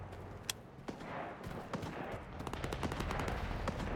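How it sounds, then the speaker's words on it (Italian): Gunfire in the video game STALKER 2, dense bursts of shots and rapid automatic fire, some sharp and near, others further off, spread irregularly over several seconds with no talking. "Ci sono un sacco di spari davanti a noi."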